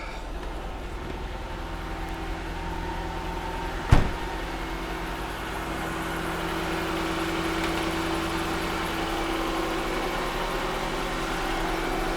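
Mercedes S55 AMG engine, freshly fitted with new springs, turning over with a single sharp start-up burst, then settling into a steady, low idle rumble that continues unchanged.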